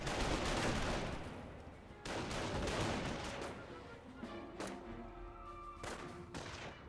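Dense rattling gunfire and thuds from a Company of Heroes battle as Volksgrenadiers and Panzer Grenadiers engage an engineer, a steady distant-sounding barrage with a voice faintly talking over it.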